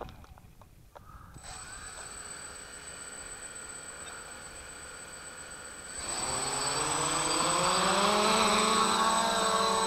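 A Syma X5C quadcopter drone's motors start with a thin, high electric whine, then swell into a louder, rougher buzz with rising pitch as it lifts off and flies nearby.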